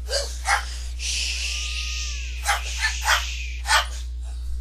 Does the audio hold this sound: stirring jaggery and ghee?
no